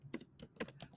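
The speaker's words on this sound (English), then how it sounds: "I'm going to type this in here" Quick run of keystrokes on a computer keyboard, about five or six close, crisp clicks in an uneven rhythm, heard alone without talk.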